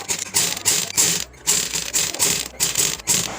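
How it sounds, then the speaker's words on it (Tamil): A sewing machine stitches green piping onto pink blouse fabric for a back-neck patch design, running in quick rhythmic bursts of clattering mechanical stitching with brief pauses between runs and no voices. "இப்போ இந்த ஒரு பிங்க் கலர் துணியில் க்ரீன் கலரை ஒட்டி நம்ம வந்து தையல் போட்டுகிட்டே வரணும்."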